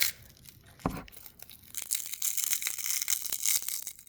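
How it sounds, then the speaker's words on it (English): Silk envelope of a Cecropia moth cocoon being carefully peeled back, giving close, soft crinkly tearing and rustling with small crackles, preceded by one brief louder crunch. "So what I do is just carefully start peeling it back."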